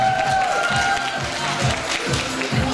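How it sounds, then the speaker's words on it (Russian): An audience applauding at a cosplay award ceremony: a steady, moderately loud wash of clapping from a crowd, continuing throughout. "Аплодисменты."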